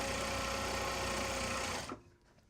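A sewing machine stitching Japanese fabric tote bags runs in a fast, loud, continuous whir up close, then stops abruptly near the end, leaving near silence.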